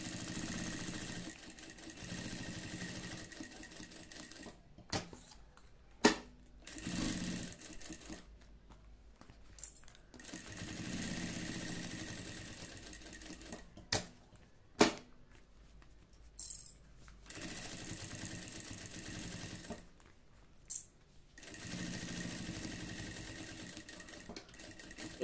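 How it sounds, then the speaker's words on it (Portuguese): A sewing machine stitches a seam close to the edge of fabric in quiet, fairly faint runs of steady whirring, cut by brief stops, small clicks and a few sharper knocks. "Passa essa costurinha bem na beiradinha."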